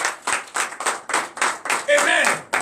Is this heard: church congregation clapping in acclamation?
yes